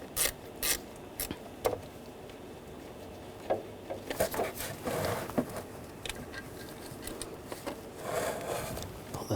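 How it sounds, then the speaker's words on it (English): A ratchet with a T30 socket loosens throttle body bolts on a 2009-2017 Volkswagen Tiguan 2.0L four-cylinder, giving bursts of quick clicking and metallic rubbing, faint and close, separated by short pauses. "I'm going to reach under here, use a T30 socket."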